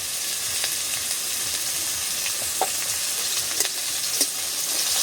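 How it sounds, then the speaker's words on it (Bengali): Prawns coated in salt, turmeric and oil fry in a pan with a dense, even sizzle that holds steady throughout, dotted with a few faint spatula taps and pops, close and unbroken by speech. "চিংড়ি মাছটাকে হালকা করে ভেজে নেব"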